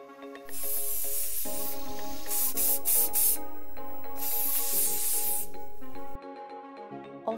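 Two long hissing bursts of foaming sanitizer sprayed onto fabric, each about a second, sound over steady background music, close and fairly loud.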